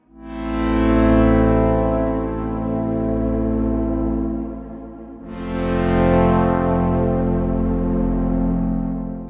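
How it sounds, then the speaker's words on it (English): A randomizer in the PhaserDelayArray app scrambles its phaser and delay controls, yielding a loud, dense, harmonically rich sustained tone with swirling sweeps that sag, then a sudden bright re-attack midway that slowly decays again; no talking. "when you press it, it will just do weird things with all of the controls in here"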